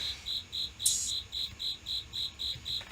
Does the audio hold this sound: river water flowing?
no